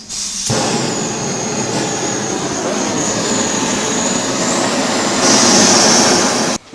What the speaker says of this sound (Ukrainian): Відкриваємо подачу газу.